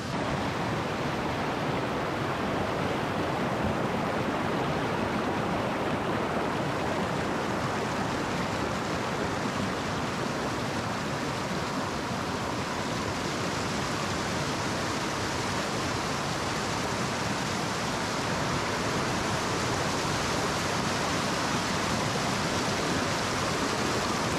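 A mountain stream rushes through a forest at the foot of the mountains, a dense, constant broadband roar of flowing water heard close up and alone.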